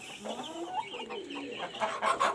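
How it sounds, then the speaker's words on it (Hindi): A rooster clucks and murmurs nearby in a backyard flock, giving a run of short, throaty calls that rise and fall, fairly close and moderately loud, with no speech heard. "ये एक मुर्गा मैंने दोस्त से लिया है"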